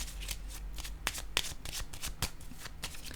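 Tarot cards shuffled briskly and laid down, a rapid run of crisp riffling flicks and soft slaps up close, with no voices.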